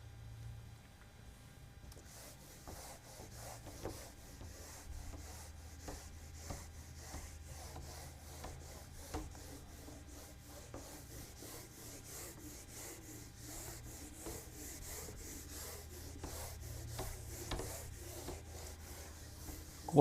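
Writing is rubbed off a classroom board in a steady run of close, soft scraping strokes that continue without pause for about twenty seconds, with no talk.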